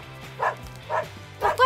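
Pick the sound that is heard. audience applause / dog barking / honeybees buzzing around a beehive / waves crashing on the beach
dog barking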